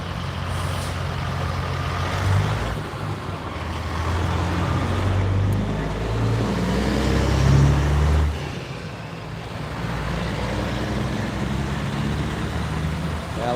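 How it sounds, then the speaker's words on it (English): Heavy road traffic backed up near construction, with trucks rumbling and idling low and loud, hisses of air brakes and passing vehicles, plus a faint reversing beep, continuous throughout. "you see the line of traffic because of construction on the corner over there"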